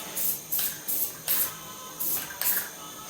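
Six short bursts of aerosol spray hiss as hammered gray paint is misted onto a wheel of a 1974 Dodge D100 truck, each pass loud and close with brief pauses between.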